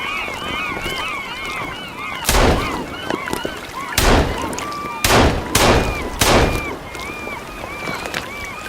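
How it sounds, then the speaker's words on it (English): Video game Sons of the Forest gunfire: several loud pistol shots ring out over an outdoor scene full of chirping birds and calls, each blast sharp and close, spaced irregularly. "I literally just shot a freaking gun"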